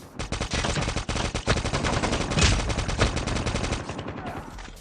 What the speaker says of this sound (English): The basic aiming setting has your gun firing automatically whenever an enemy is in your sight.